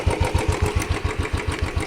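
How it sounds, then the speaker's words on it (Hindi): A Royal Enfield Bullet motorcycle's engine idles close by with an even, rapid thump-thump beat after starting, loud and steady with no talking over it. "ये बाइक स्टार्ट हो गया।"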